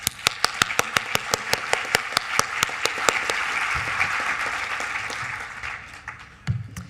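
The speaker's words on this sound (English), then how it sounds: "Let's give these guys a round of applause." Audience applause at a design awards ceremony, opening with sharp, evenly spaced single claps before swelling into a sustained crowd ovation that tapers off near the end.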